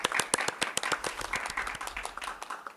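Audience applause fills a hall at a Tokyo open-data hackathon demo day, with many hands clapping in a dense, steady burst that stays loud and close throughout, then begins to thin slightly toward the end.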